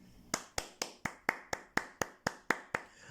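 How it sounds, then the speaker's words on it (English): A person claps their hands about eleven times in an even rhythm, each clap sharp, close and alone with little room noise between. "That's actually my hand clapping."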